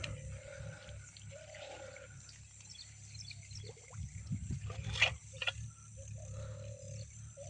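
Water gushes out of a well in the rainy season in a steady, low rush that continues throughout, with faint sounds now and then in the background.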